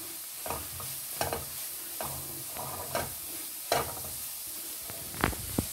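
Spices including a quarter teaspoon of garam masala are roasted and stirred in a pan, a low frying hiss punctuated by regular spoon scrapes and taps, close and moderately quiet.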